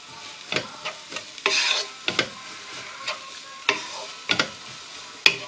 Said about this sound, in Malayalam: നമുക്ക് ആവശ്യത്തിനുള്ള ഉപ്പും കൂടെ ചേർത്തിട്ട് നന്നായിട്ടൊന്ന് ഇളക്കി കൊടുക്കാം.